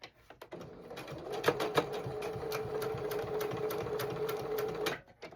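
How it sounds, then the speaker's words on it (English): A sewing machine stitching a zippered pouch: a few quick starts, then a steady, fast mechanical whir of needle strokes running close and clear for about four seconds before stopping. "I'm gonna sew one side and then down the other one."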